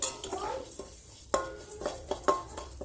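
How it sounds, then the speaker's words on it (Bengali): Chusi, small rice-flour dumplings, stirred and lightly fried in ghee in a pan: soft sizzling under clear utensil knocks and scrapes that land at irregular intervals, with a few sharper clinks close by. "তো হালকা একটু ঘিতে ভেজে নিই।"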